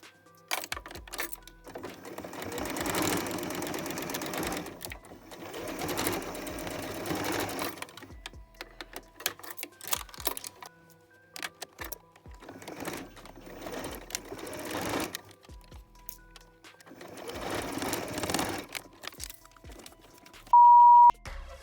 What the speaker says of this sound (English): here I am doing the top stitch on the shoulder seams, and then the top is done